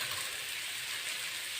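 Omena simmering in a pan with salt, giving a soft, even, close sizzling crackle with no breaks, fairly quiet throughout.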